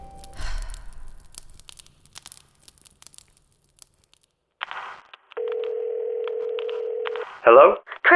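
A telephone in a tomb gives a short burst of tones, then a long steady dial tone, followed by a few brief warbling beeps, heard fairly close after a stretch of near silence and rustling.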